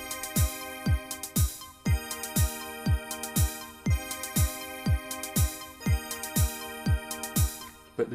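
Roland JD-Xi synthesizer plays sustained chords over a repeating electronic drum beat with punchy kick hits, a steady backing-track loop heard close and alone.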